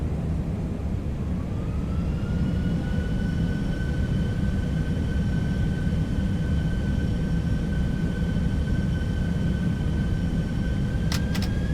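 A ToLiss Airbus A321 in a flight simulator has its engines at 50% throttle, giving a steady loud roar with a smooth whine that rises slightly early on and then holds level, and a brief pair of clicks right at the end.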